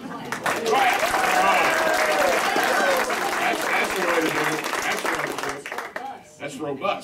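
A live radio show audience bursts into loud, sustained applause on cue, many hands clapping densely together for several seconds before it tapers off near the end.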